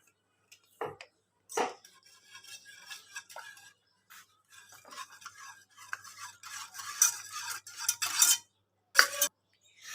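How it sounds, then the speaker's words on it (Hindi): A spoon stirs coffee into hot chocolate in a cup, giving close, light clinks and scrapes in short irregular bursts, with quiet gaps between them. "अब मैं इसको घुमाने के लिए तैयार हूँ।"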